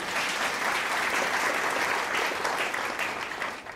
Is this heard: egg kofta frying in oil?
no